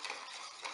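Basil alcohol is stirred into cooled syrup, a short soft liquid swirl with a faint scrape of the utensil against the container, close and steady, with no voices.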